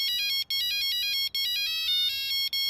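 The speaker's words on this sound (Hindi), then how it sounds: "फोन भी तभी बजता है" A mobile phone ringtone plays loud and close, a bright repeating electronic melody in short bursts separated by brief gaps, with no talking.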